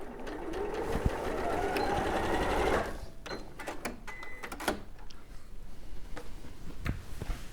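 A sewing machine stitches quilt fabric pieces together in a loud, fast, steady whir for about three seconds, then stops, followed by scattered clicks and small handling noises.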